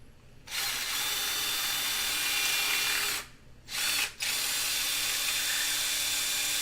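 A power drill bores a hole in long loud whirring bursts, with a short break near the middle and a quick stop and restart just after it.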